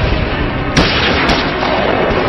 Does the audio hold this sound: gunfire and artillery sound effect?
yes